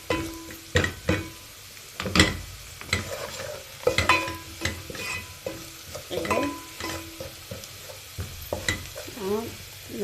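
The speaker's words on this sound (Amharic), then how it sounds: "አሁን ነጭ ሽንኩርት ትንሽ እየበሰለ ነው፣ ትንሽ ይቀረዋል።" Garlic frying in a pan for molokhia, with a spoon scraping and stirring in irregular clacks and scrapes over a soft, steady sizzle, close and alone.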